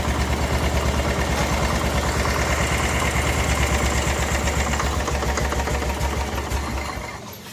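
A 1988 Club Car golf cart engine runs at a steady, loud idle with a rapid putter, then fades and cuts out near the end as it dies for lack of fuel.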